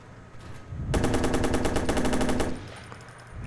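Gunfire in the Watch Dogs video game hammers out a rapid, loud burst of automatic shots lasting about a second and a half, then cuts off to quieter game background.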